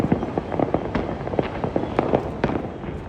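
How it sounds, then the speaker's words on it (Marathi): Firecrackers bursting in Ahmedabad during the Uttarayan kite festival: a dense, irregular string of sharp pops and cracks, some close and loud, over a steady background roar. "फटाका"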